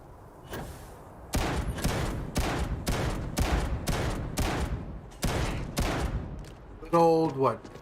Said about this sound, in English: 9-gun salute for Barrett.